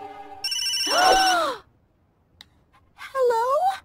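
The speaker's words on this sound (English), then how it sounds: "Just then, the phone rang." A telephone rings in a stormy-night scene of an animated Barbie film: loud electronic warbling tones in two bursts separated by a brief quiet gap, heard alone without talk.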